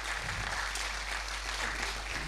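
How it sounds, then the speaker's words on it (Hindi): Audience applause at a poetry gathering, dense steady clapping from a hall crowd, fairly faint and continuous for a couple of seconds over a low hum. "एक बार जोरदार तालियां बजा दीजिए डॉक्टर जिया टोंकी के लिए।"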